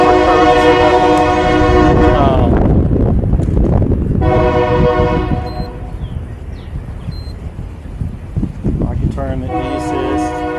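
A three-car train passes close by with loud rumbling, sounding repeated sustained horn blasts at the start, middle and end.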